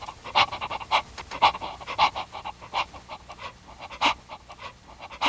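A dog panting rapidly and steadily, with a quick rhythmic series of breathy huffs, close up and clear with no talking.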